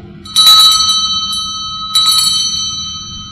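A metal bell, the kind used at a Buddhist school's summer retreat, is struck twice, about one and a half seconds apart. Each stroke rings with bright, sustained tones that slowly decay over a low background hum.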